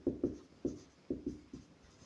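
Pen writing out a math solution on paper, about six distinct scratchy strokes in an uneven rhythm, close and quiet, with no speech over them.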